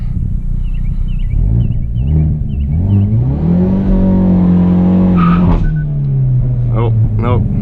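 A Hyundai Veloster N revs hard in reverse against the handbrake in a burnout attempt, the engine note climbing and holding steady before easing off, with tire noise and brief squeals riding over the rumble.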